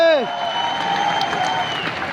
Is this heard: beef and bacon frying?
no